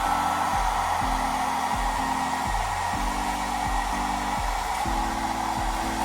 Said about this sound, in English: do some brush strokes and blow dry that